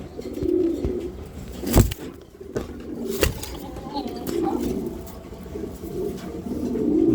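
Giribaj pigeons coo in soft, repeated low murmurs, close by amid a busy background, with a couple of sharp knocks breaking through.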